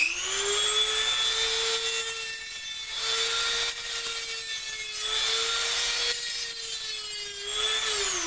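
A Dremel rotary tool grinds down a model railway track rail, giving a close, high-pitched, steady whine with rougher grinding surges as it bites into the metal. No voices.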